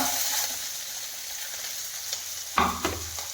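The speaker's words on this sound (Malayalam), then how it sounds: "ഇനി ഇഞ്ചി പച്ചമുളക് എല്ലാം ഒന്നിട്ടിടാം സവാള" Ginger, green chilli and onion drop into hot oil with mustard seeds and dried red chillies, a steady close sizzle with a few sharper crackles and stirring scrapes near the end.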